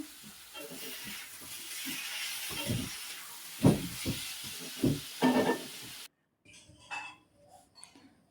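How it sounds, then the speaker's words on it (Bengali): Potatoes fry in a wok, with a moderate sizzling hiss and scattered stirring knocks before the sound cuts abruptly to a quieter, sparser kitchen background. "এদিকে আমার আলুগুলো ভাজা হয়ে যাচ্ছে"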